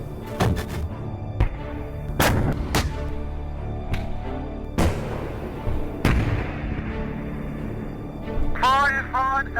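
A tank's main gun fires during a military officer training exercise, with several heavy booming shots and thuds spread across the clip, loud and close, under shouted commands over the radio.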